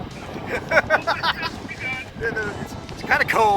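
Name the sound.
wind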